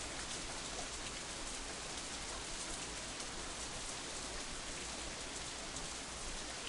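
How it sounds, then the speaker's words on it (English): Steady, dense rainfall from the Katawa Shoujo visual novel, a continuous even hiss that fills the whole stretch with no voices or thunder. "the rain seems to increase"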